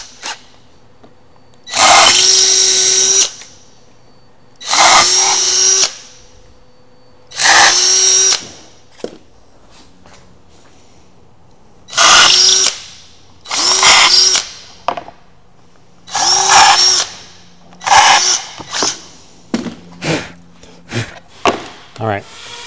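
A power drill bores holes through a blank router sled baseplate in repeated short high-pitched bursts, each a few seconds long with pauses between them, followed by quicker shorter whirs near the end. Nobody speaks.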